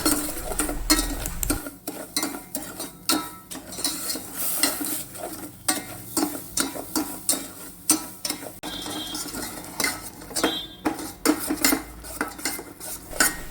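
Sugar caramelizing in a pan on the stove, stirred briskly with a spoon scraping and clinking against the metal in a fast, uneven rhythm, close and continuous without speech.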